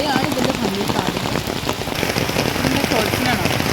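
Heavy rain falls steadily in a forest with wild elephants, a dense, loud, close hiss of drops on leaves and surfaces with no letup.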